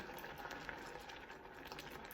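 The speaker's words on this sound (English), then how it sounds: "I'm just gonna boil it up like this until most of the water, not all of the water, but until most of the water has been boiled away" Beets boil in water in a pot, giving a steady, dense bubbling and hissing simmer that carries on evenly throughout at low volume, with no talking.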